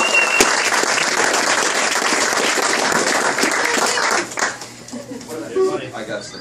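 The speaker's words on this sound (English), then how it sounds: "Everybody give Ken House a big round of applause." Players gathered for a video game tournament briefing give a loud, dense round of applause that holds for about four seconds, then dies away into scattered claps and talk nearby.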